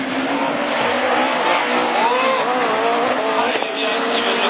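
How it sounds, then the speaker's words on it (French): Rallycross race cars, including a Honda, racing at Chateauroux, loud continuous engine roar with rising and falling revs and tire squeal, dense and close throughout. "Guillemot qui se fait attaquer du coup par la Honda de Lambert"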